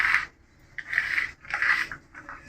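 Ground spice paste of ginger, dried chilli and cumin is scraped up off a grinding stone in four short, rasping strokes, close and fairly loud with no talk.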